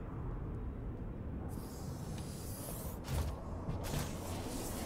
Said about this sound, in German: Wenn sich die Tür schließt und dann plötzlich wieder aufgeht